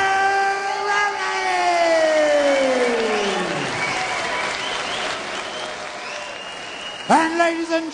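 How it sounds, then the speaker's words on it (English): Loud crowd applause and cheering fill a fight arena after an MMA knockout, sustained throughout under a ringing whistle-like tone that slides downward, then a brief swell near the end. "let's hear it for your runner-up, Scott Too Smooth Jansen!"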